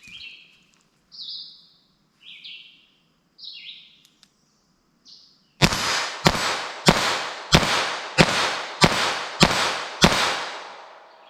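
Eight sharp .22 Long 29-grain cartridges fired from a handgun in a steady rhythm about every half second, each crack loud and close with a short decay; chirping birds are audible beforehand.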